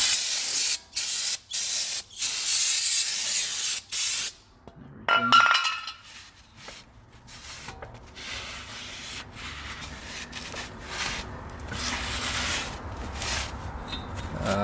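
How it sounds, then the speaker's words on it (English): Parts cleaner sprayed from an aerosol can onto a brake rotor during a brake pad and rotor job on a 2009-2018 Jaguar XJ: several short loud bursts of hissing spray, then quieter rubbing and light metallic clinks. "I'm gonna get some parts cleaner. Clean off your rotor."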